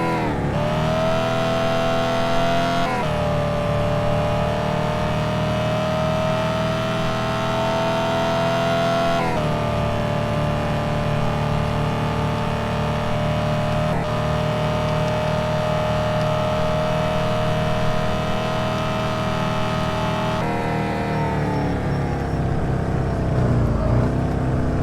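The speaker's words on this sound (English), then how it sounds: "you got to turn the sound down on that engine just a little bit" A steady, droning car engine rev from the game Car For Sale Simulator, loud and constant, its pitch stepping up and dropping back several times like gear shifts.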